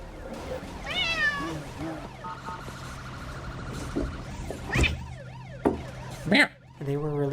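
A cat meows several times, with rising and falling wavering cries set against other warbling electronic-sounding tones and a few sharp knocks. The calls are close and come in irregular bursts.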